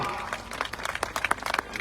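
Crowd at a political party workers' rally applauding, a dense, steady clatter of many hands clapping at close range, with a voice faintly mixed underneath.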